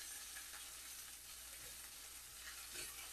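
Coarsely chopped onions sauté in a pan for kachori filling, giving a soft, steady sizzle and crackle that stays even and fairly faint throughout, with no voices.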